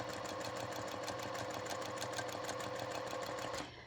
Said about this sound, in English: And I'm going to just sew that.